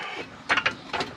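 A hydraulic jack being pumped to raise a car subframe on a Nissan Cefiro gives a few quick metallic ratcheting clicks, faint and close.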